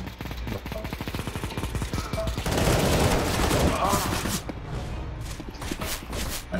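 Rapid automatic gunfire from random weapons in CS:GO, a dense close burst of shots that swells into a loud continuous volley, with scattered shots and footsteps around it and voices talking over the game.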